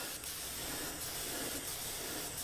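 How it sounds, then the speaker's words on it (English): A steady hiss of pinkish-red aerosol spray paint on a wooden tea box, close and continuous, with a few brief pulses as the nozzle is pressed again. "Just spraying it up now"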